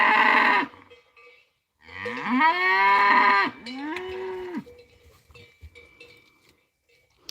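Cattle on a farm moo loudly and close by, with one long low moo followed by a second shorter one, plus a brief earlier call, and then quieter background noise.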